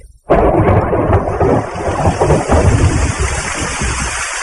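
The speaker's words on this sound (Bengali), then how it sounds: "সঙ্গে সঙ্গে যেমনি বিদ্যুৎ তেমনি মেঘ গর্জন" A loud thunderclap bursts in suddenly and rolls on as a long, heavy rumble for several seconds in a storm sound effect for an audio drama.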